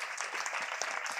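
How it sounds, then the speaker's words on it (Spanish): A short burst of audience applause at a coronary disease event, thick and continuous clapping at a low, even level lasting only a moment. "vamos a darle un fuerte aplauso también por resolver todas estas dudas"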